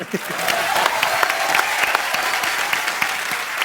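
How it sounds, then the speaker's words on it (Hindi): A studio audience at The Kapil Sharma comedy show breaks into loud, sustained applause, with dense clapping that begins just after a voice and continues steadily to the end. "जोरदार तालियां।"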